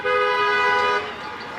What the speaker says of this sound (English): mostly because of a large amount of honking on my street.